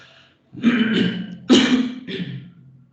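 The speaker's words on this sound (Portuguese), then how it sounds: "Vai ficar legal na gravação essa tosse" Several harsh, throaty coughs in quick succession, close and fairly loud, separated by brief pauses.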